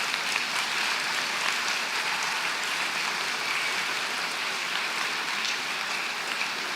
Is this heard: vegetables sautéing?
no